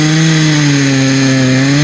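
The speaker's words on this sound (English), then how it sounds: "she bought him this chainsaw" A new chainsaw idling steadily, loud and close, with a constant low engine drone and strong harmonics, no voices.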